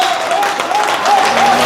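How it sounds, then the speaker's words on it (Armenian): Steady applause fills a restaurant celebration of a woman's 50th birthday, continuous and loud throughout, with a voice talking over the clapping. "ծափերը բարձր,"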